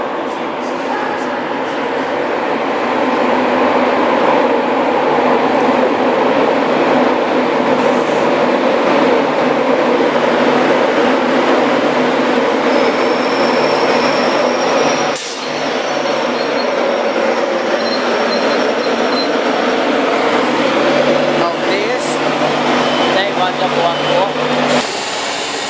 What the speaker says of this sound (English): I'm going to film the train coming in.